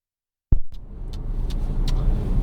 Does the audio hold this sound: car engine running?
yes